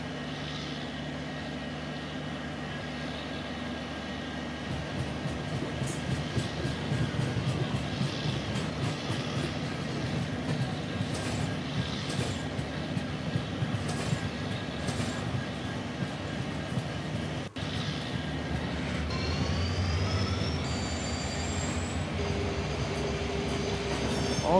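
A simulated passenger express train in Trainz Simulator pulls into Jalpaiguri Road railway station, with a continuous rolling rumble, rhythmic wheel clatter and high brake squeals near the end, and no talking.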